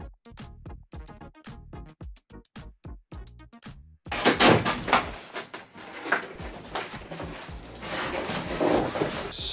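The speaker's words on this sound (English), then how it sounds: "you open this flap and then pull the handle up" A cardboard shipping box for an eBike gets handled, with a run of sharp taps and tearing ticks followed by a loud rustling, scraping rush as the flap opens and the handle is pulled up.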